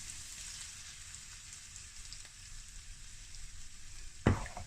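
Beaten eggs sizzling in a hot pan of fried rice, a steady soft crackle with a sharp scrape of a utensil near the end, no talking.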